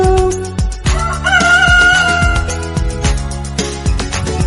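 A rooster crowing call, sung as part of a Hindi children's rhyme, rings out loud and clear over a steady musical backing, with rhythmic percussion hits throughout.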